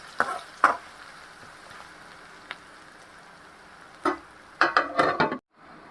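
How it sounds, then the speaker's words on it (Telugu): Crushed garlic frying in a pan for an egg curry, a faint continuous sizzle punctuated by a few sharp clinks and stirring scrapes, clustered near the end. "కచ్చపచ్చగా దంచుకున్న వెల్లుల్లిపాయలు వేసి అవి కూడా గోల్డెన్ బ్రౌన్ కలర్లోకి వచ్చేంత వరకు ఫ్రై చేసుకోవాలి"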